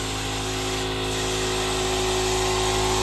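Continuous loud hiss and compressor drone of drywall texture being sprayed onto sheetrock in a small utility room, steady and close with no pauses or voices.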